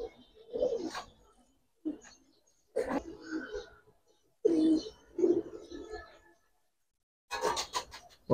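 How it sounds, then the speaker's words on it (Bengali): Gribaz highflyer pigeons, one of them unsettled after being let loose in grass, give repeated soft cooing bursts with short pauses between them, heard close and clear against a quiet background. "ওই ঘাসের মধ্যে ছাড়ার কারণে কবুতরটা ঘাবড়ে গেছে।"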